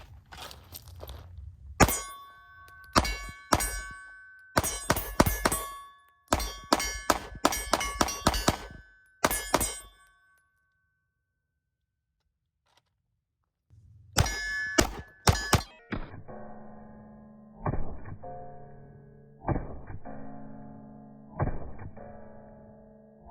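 Pistol fire from a Staccato C2 and a Bul Armory SAS II at a range, with sharp close gunshots in quick strings and bursts, a silent pause midway, then more spaced shots with ringing metallic target clangs.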